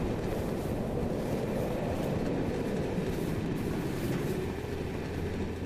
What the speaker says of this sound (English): It's a very big train.